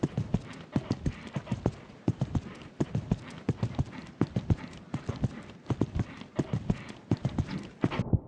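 A horse's hooves clip-clop at a show jumping competition, close and fairly loud, in a steady rhythmic gait of evenly spaced strikes with faint ambient noise between them.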